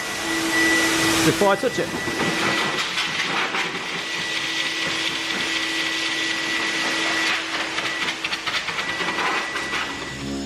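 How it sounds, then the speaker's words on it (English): An air blower roars steadily as it clears dust from the polished paint of a Mercedes C63 AMG 507, a loud continuous rushing hiss that runs the whole time, with someone speaking briefly over it. "So this blower is going to eliminate the dust"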